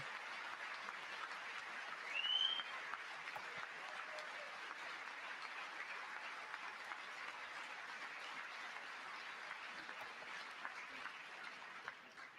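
Members of Congress applaud for Melania during the State of the Union, a steady, broad wash of clapping in a large chamber, moderately distant and sustained throughout, with a brief swell near the start.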